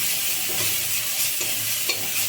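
Ginger, garlic and onion sizzle steadily in a hot pan, with stirring scrapes and spatters running close and loud throughout, no talking.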